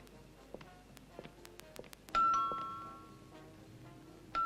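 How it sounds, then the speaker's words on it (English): Several short chime-like taps, then a clear two-tone doorbell ding-dong rings out indoors and fades slowly, with another ring starting at the end. "the doorbell rang"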